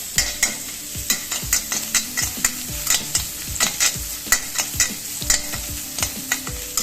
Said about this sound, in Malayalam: ഇഞ്ചി വെളുത്തുള്ളി മൂത്ത് നല്ലൊരു വാസന വരണം